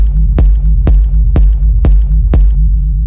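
A techno rumble kick with sub bass, programmed in FL Studio, pounds five steady, loud kicks about half a second apart over a continuous deep droning rumble that carries on alone after the last hit.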